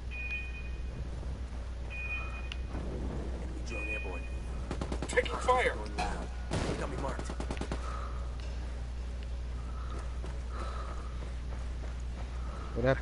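Gunfire in a Ghost Recon ranked 4v4 PvP match: bursts of rapid shots, the densest near the middle, ringing over a constant low hum with game effects around them, and some voice chat mixed in.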